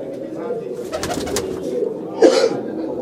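A pigeon held in a keeper's hands coos in low repeated pulses, close and fairly loud, with a brief rustle of handling near the end and someone talking throughout.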